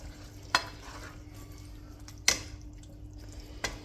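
A pot of chilli con carne gets stirred over low heat, three distinct spoon clacks against the pot rising over a soft bubbling simmer, with no voices.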